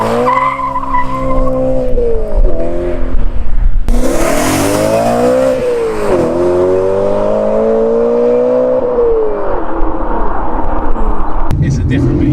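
A BMW M3 engine and exhaust rev hard and loud, rising and falling in pitch with gear changes and a sharp burst midway, close and continuous.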